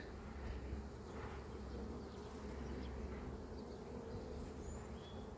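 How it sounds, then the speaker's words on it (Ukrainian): Honey bees swarm around an opened hive, producing a dense, continuous buzzing hum that stays loud and close for the whole stretch, with no voices over it. "Так, бджоли багато."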